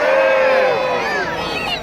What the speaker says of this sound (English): And give me a cheer if you're ready.